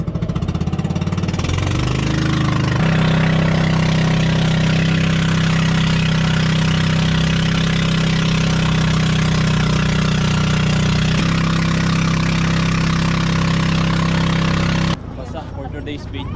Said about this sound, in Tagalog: 2JZ Supra engine.